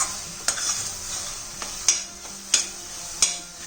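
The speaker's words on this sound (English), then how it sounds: "So you continuously mix it. So because we don't want to get it burned." Jaggery and grated coconut with cardamom powder are stirred in a pan, a soft steady sizzle broken by sharp spoon-on-pan scrapes and clacks about every half second to second.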